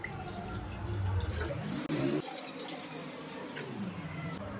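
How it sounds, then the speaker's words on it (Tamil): Two tumblers of water are poured into a pot to make lemon tea, giving a quiet, steady splashing stream with a brief break partway through and no voices. "தண்ணி ஊற்றிப்போம்."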